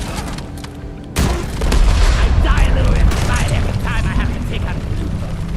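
The Fat Boy overclock explosion in Deep Rock Galactic, a sudden heavy blast about a second in that rolls into a long, loud, rumbling roar with crackling debris.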